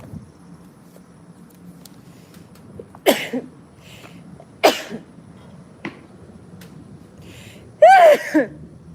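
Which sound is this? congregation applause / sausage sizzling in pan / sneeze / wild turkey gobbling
sneeze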